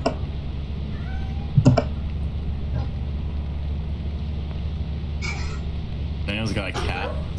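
A cat meows a few times in the video game Lethal Company, with short tonal mews near the end over a steady low background hum and occasional faint sounds.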